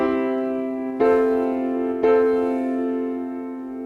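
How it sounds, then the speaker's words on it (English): Piano chords are played with the sustain pedal pressed too late. Three sustained chords strike about a second apart, each ringing loud and full and then slowly fading. "This is what happens if you pedal too late, or if you don't engage the pedal very much"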